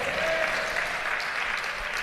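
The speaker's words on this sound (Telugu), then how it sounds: "చప్పట్లు కొట్టి దేవుని స్తుతించండి" A church congregation claps hands in praise, a dense, steady wash of applause filling the whole stretch without pause.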